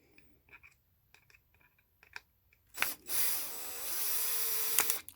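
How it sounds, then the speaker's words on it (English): A power drill drives brass slot-head screws, a close, whining spin-up that runs steadily for about two seconds and then cuts off, preceded by scattered small clicks and handling taps. "trying to do this with a drill is kind of crazy, but anyway, goes like that"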